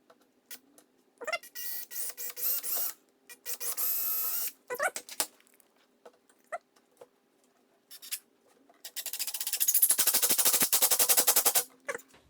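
A drill bores a pilot hole into a wooden cabinet in several short, close bursts, with brief pauses between bursts and a longer, louder final run as the bit cuts through the wood.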